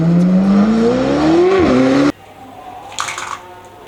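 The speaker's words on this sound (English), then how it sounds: "This is awesome racing car, guys." A toy-style racing car engine whines and rises in pitch for about two seconds, then cuts off abruptly, followed by a brief faint rustle.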